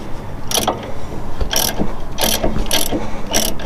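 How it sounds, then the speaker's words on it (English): A hand ratchet clicks in short, fast bursts while loosening a bolt on the panhard bar of a 1993 Camaro Z28. About five separate ratcheting strokes come close and loud, with no talk. "Put the other ratchet on it to hold it."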